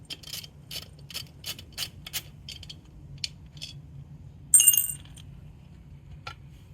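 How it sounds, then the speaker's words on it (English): A T30 Torx driver loosening the cosmetic cylinder head cover bolts on a BMW R18 motorcycle: a quick series of crisp ratcheting clicks, then scattered metallic ticks and a brief clink, close up, under a low steady hum, with no talk. "using my T30, I'm gonna go ahead and just remove the cylinder head cover"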